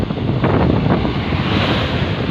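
Waves crash at a seashore in a loud, steady roar, with heavy wind buffeting the microphone throughout.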